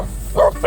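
A dog barks twice in quick succession on a walk to Mount Balagbag, short and loud, close by over a low outdoor rumble.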